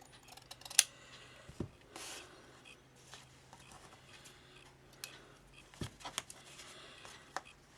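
Scissors snip through three layered pieces of sari fabric from underneath in a quiet room, giving faint, scattered crisp cuts and small clicks spread across the stretch, with no talking.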